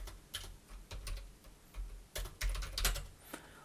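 Quick, irregular clicks of typing on a computer keyboard, including caps lock, with bursts of close, light keystrokes separated by brief pauses.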